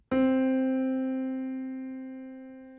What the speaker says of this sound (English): Let's go ahead and play middle C.